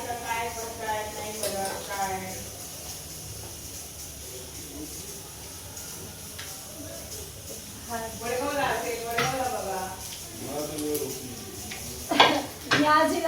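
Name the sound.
vegetables added to a hot pan, sizzling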